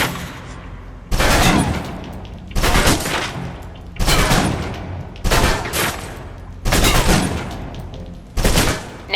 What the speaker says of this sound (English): Now let's empty the clip. Let you get a feel for the recoil.